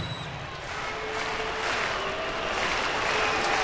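At a Royals versus Padres baseball game in San Diego, a stadium crowd on its feet applauds and cheers in a broad, steady roar that swells slightly, with a faint announcer voice underneath.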